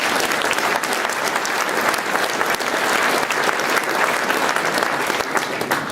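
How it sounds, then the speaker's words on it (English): Sustained, dense applause from an awards-ceremony audience fills the hall for six seconds, steady and loud with no break or fade. "Round of applause, please."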